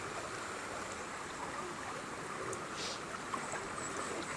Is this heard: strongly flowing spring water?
yes